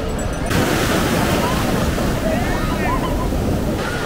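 Waves breaking and washing ashore on Puri beach in a constant loud roar, with wind gusting across the microphone.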